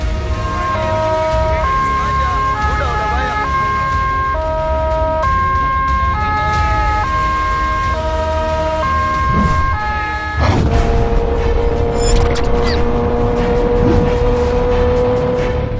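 An ambulance siren wails in a repeating two-tone pattern, loud and close, then switches to a different, steadier wailing pattern, with road traffic underneath.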